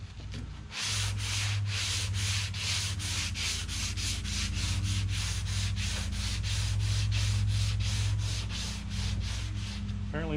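Sandpaper rubbing body filler on the roof of a 1970 Plymouth Barracuda, outdoors in the sun: a close, steady run of rhythmic back-and-forth rasping strokes, about two or three per second.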